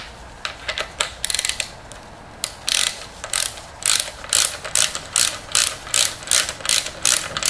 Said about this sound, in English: Grab your deep 18 millimeter socket.